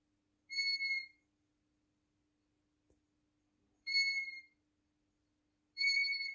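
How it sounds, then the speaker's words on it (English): A European golden plover gives three clear, plaintive whistles spaced a few seconds apart, each under a second long, set against near silence. "This is, if you can hear the sound of this bird, how it is."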